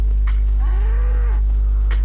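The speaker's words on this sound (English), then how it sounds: "I'm being outrun by a cow." A cow moos once in a long, wavering low call amid a first-person shooter game, with brief sharp clicks or shots before and after over a steady electronic hum.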